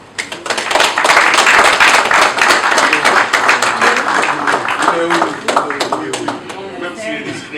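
An audience at a book event applauds for an honoured guest, with brisk, dense clapping that stays loud throughout and fades slightly near the end, while a few voices sound underneath.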